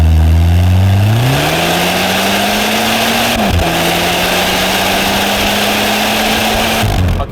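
A turbocharged and supercharged Skoda Fabia vRS is driven under hard acceleration, its engine note climbing steadily and loudly through the rev range, dropping briefly at a gear change, then rising again in a continuous close-up drone.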